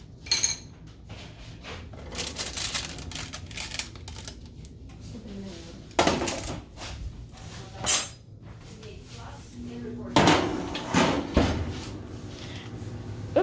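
A pan of homemade granola is pulled from a kitchen oven, with metallic clatter and clinks of the tray against the rack, a few sharp bangs of the oven door, and a steady background hum throughout.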